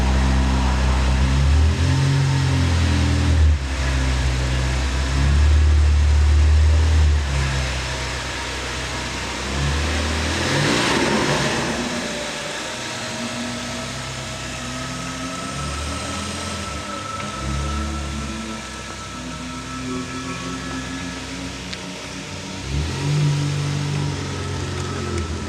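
A Mazdaspeed3 engine revs loud and close with a deep rumble, its bypass valve adding sharp whooshing bursts as the revs rise and fall, tailing off to a steadier idle-like drone before another surge near the end.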